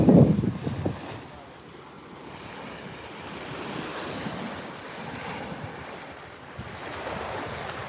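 Surf washing onto a beach with gusting wind buffeting the microphone, a loud rush at the start settling into a steady roar of waves.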